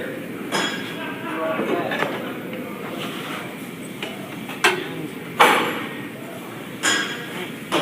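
A metal tire spoon clinking against a tire being dismounted, several sharp metallic strikes spaced a second or so apart over a steady background hum, close and distinct.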